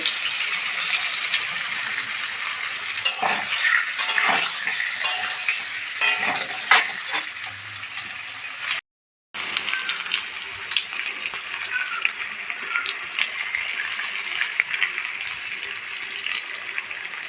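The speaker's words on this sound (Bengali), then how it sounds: "আমি এর মধ্যে লবণ ও হলুদ দিয়ে ভালো করে আলুটা ভেজে নেব" Potatoes frying in a pan with salt and turmeric, a steady close sizzle with repeated scraping and stirring knocks, a brief silent break midway, and quiet talk in places.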